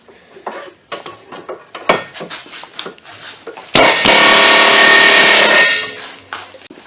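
Scattered metallic clanks and taps, then a loud continuous pneumatic air hammer driving a long chisel against a 2000-2011 Ford Focus right axle for about two seconds before it cuts off and the tapping resumes.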